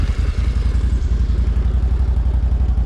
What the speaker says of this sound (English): she's got that nice healthy V-twin rumble to her.